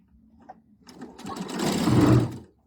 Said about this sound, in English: So we're going to sew these together.